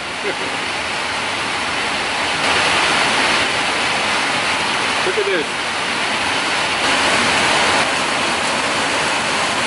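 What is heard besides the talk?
heavy rain pouring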